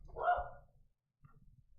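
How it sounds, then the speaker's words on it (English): A single loud dog bark or yelp close by, followed by a brief quiet gap and faint low background noise. "We're gonna have a brief bark break while the dog freaking yells."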